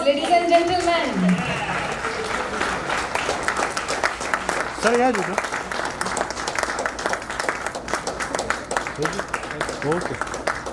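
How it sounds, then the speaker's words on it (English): Crowd applause at a corporate HR network event, a continuous patter of many hands clapping under a voice speaking over the crowd. "Yes, big round of applause, ladies and gentlemen."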